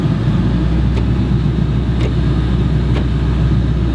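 A Ford Mustang SVT Cobra Terminator engine drones steadily and loudly up close, a constant low rumble with brief gaps that could be gear changes.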